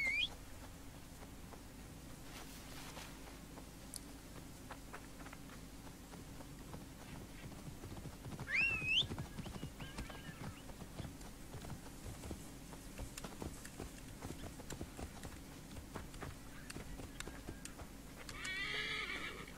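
A horse in Assassin's Creed Origins gives a sharp whinny amid steady clip-clopping hooves, all fairly quiet over a low ambient hum.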